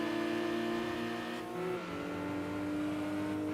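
Nissan race car engine in Gran Turismo 2 on the Laguna Seca circuit, a steady loud droning whine held at high revs, dipping briefly mid-clip as the pitch drops and then holding again, alone without talk.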